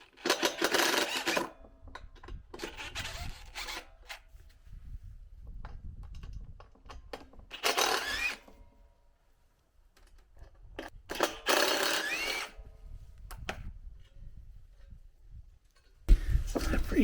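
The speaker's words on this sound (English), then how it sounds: "I am gonna unscrew this from the base" A power drill unscrews a plant stand top from its base in short whirring bursts at about 0, 3, 8, 11 and 16 seconds, loud and close, with quieter handling sounds between them.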